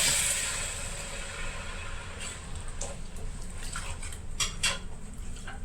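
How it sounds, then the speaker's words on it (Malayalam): Beef pickle with a cup of vinegar is stirred in a pot. A low, steady bubbling hiss runs throughout, and a few light scraping clinks of a spoon against the pot grow more frequent toward the end. "നന്നായിട്ട് ഇളക്കി യോജിപ്പിക്കുക ഇനി ഇതിലേക്ക് ഒരു കപ്പ് വിനീഗർ"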